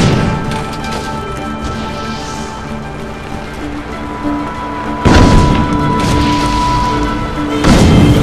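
A pipe shot in Assassin's Creed Brotherhood erupts in a loud, booming blast that then rumbles on, and a second explosion follows near the end, over constant game background noise.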